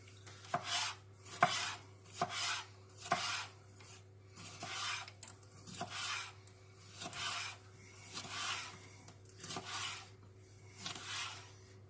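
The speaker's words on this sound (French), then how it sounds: "on va se faire de jolies lamelles de poivron" A knife cuts bell pepper into thin strips on a board, about a dozen crisp chopping strokes falling in a loose steady rhythm, close and fairly quiet, over a low constant hum.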